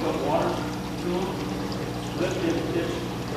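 Water pours steadily into a fish egg hatching jar at a hatchery, a continuous close splashing fill that runs the whole time under a noisy indoor background.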